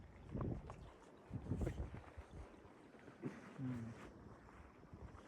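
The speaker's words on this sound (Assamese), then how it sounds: "এইটো বতাহ নহয় নেকি" Wind gusting outdoors around a Quechua MH100 three-person camping tent, heard as uneven bursts and rumbling buffets against the microphone, fairly close, with brief voices in between.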